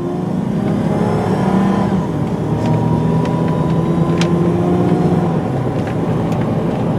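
A 2003 Volvo XC90 T6 AWD SUV engine pulls steadily under load through manually shifted gears, a continuous loud drone with pitch rising and settling, heard from inside the cabin.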